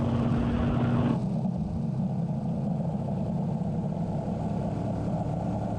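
A Honda Transalp motorcycle engine accelerating under held throttle from about 110, heard as a loud, steady engine drone mixed with heavy wind roar; a tonal whine fades after the first second, and no one speaks.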